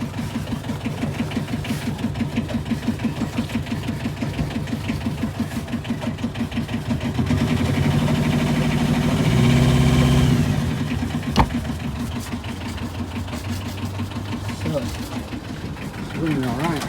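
A solid diesel engine, nearly 17 years old, idles steadily after a fuel system check following diesel bug contamination, a continuous close mechanical knock that swells slightly in the middle, with voices talking over it.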